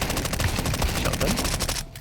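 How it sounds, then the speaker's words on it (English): Rapid shotgun blasts in an online shooter game, sharp broadband bangs repeating through a dense burst of gunfire that cuts off abruptly at the end, with faint voices mixed underneath. "Shotgun."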